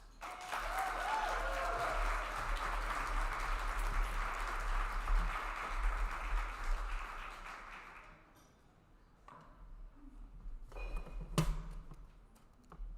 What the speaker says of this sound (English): Another round of big applause.